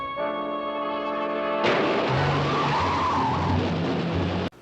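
In a Batman episode a car pulls away with a sharp tire skid, loud screeching noise and engine roar following a sustained musical chord, then a sudden cutoff at the end.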